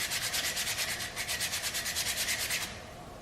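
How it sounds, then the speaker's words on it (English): Sandpaper is rubbed over a saw blade to clean it, a rapid, even back-and-forth scratching of about fifteen close strokes that stops abruptly near the end. "I'll take this piece of sandpaper and"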